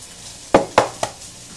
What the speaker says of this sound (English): Another perfect crack. That's 3 eggs in the pan and no shells.